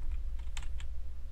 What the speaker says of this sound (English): I guess we should just type that in.